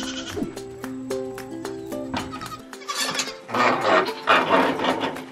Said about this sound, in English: come out into the nursery and meet some of the other little baby goats